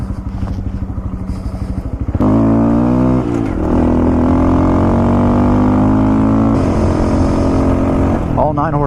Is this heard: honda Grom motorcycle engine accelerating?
yes